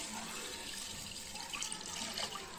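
Water pours steadily into a cooking pot of masoor dal (red lentils) with gadheri in a home kitchen, a continuous splashing fill heard close up with no talking.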